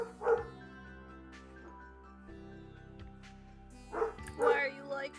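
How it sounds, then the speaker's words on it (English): A dog gives a few short barks and yips, one early and a cluster near the end, over steady background music-like tones, with a person's voice in the room between. "No, the dog bark!"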